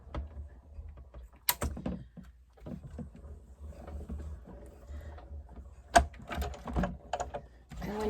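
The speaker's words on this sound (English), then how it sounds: "Just sandwich that up and run it through the stamp and cut and emboss." Paper sandwiched with cutting dies is cranked through the rollers of a die-cutting and embossing machine, producing close mechanical rumbling and creaking with sharper clunks near the start and end, and no speech.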